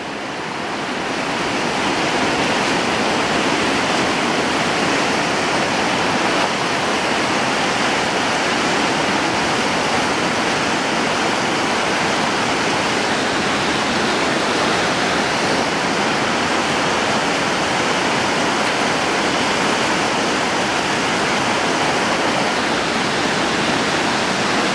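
Yampa River rapid near Harwood and Big Joe in high-water spring flow, roaring as a steady, loud, broadband wash of whitewater that holds unbroken from start to finish with no voices.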